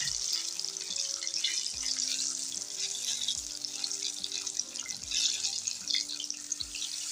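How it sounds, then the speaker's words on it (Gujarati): Steady, hissing sizzle of tomato fritters deep frying in hot oil, a continuous bubbling wash of sound under gentle background music. "ભજીયા સરસ રીતના તળાઈ ગયા છે"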